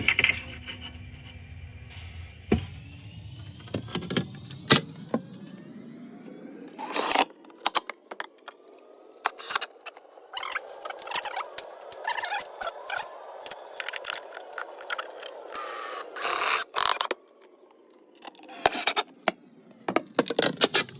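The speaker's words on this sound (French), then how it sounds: "je vais essayer de visser les tasseaux" A drill drives screws into wooden battens on a kitchen cabinet, with rising and falling motor whine, clattering bit and screw noises and scraping handling sounds, close and fairly loud with pauses.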